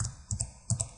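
Four or five crisp keystrokes on a computer keyboard, spaced in two quick pairs at close range, as a web address is typed, with no voices.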